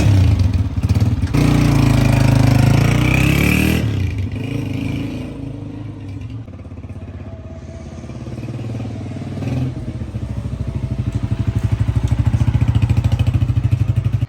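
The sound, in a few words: new self-start motorcycle engine running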